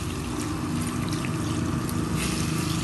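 Water pours steadily from a glass into a moqueca pot, a loud close continuous splashing trickle with no talk.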